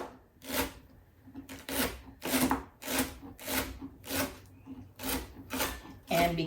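A knife is slicing leftover celery into quarter-inch slices on a cutting board. About ten crisp, evenly spaced crunching cuts come close up, each with a short rasping bite.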